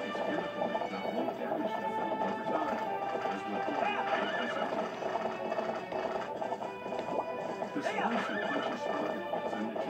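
A horse in the video game Zelda Twilight Princess neighs and gallops, with rhythmic clip-clop hoofbeats under loud, busy game sound, and a voice chatters along.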